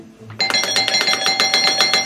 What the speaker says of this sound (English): I'm just going to ring his doorbell